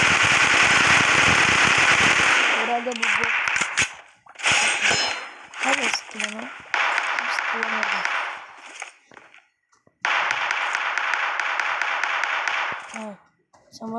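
Bursts of gunfire in the battle royale video game PUBG, sharp rapid shots in several clusters with brief gaps, mixed with game effects and a player talking over them.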